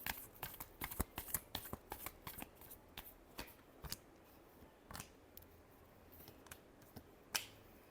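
Tarot cards are shuffled close up in a quiet room, a fast run of crisp riffling snaps that slows toward the end, with no one talking.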